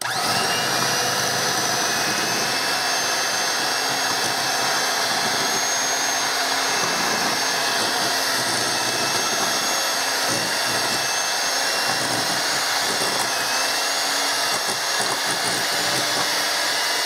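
Pumpkin squares batter with a lightly beaten egg being mixed, most likely with an electric mixer: a steady, loud, continuous motor whir that holds at even strength throughout, with no talking over it.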